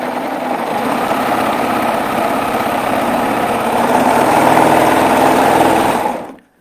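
A sewing machine stitches heavy thread with the presser foot lowered, giving a loud, steady mechanical whir with fast repetitive clatter that holds for about six seconds, then stops abruptly.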